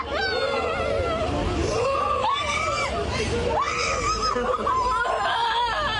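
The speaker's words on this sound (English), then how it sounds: "In the shocking video, the girls can be heard crying and screaming." Girls and young children crying, wailing and screaming in distress during a police stop in a parking lot, loud and continuous with overlapping high-pitched voices throughout.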